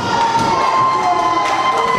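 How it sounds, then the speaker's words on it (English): Wrestling crowd cheering and shouting loudly in an arena, a continuous roar of many voices with whistles and yells rising and falling. "The crowd getting into it now."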